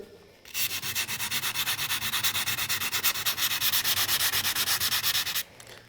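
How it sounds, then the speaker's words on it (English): Sandpaper rubs lightly over a carbon fiber surface in quick, even back-and-forth strokes, about two per second, close and fairly quiet, with no talk. "work it lightly with sandpaper"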